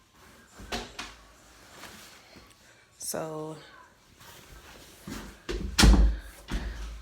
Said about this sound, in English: Close this door here.